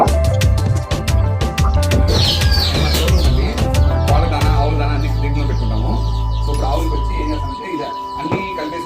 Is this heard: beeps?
no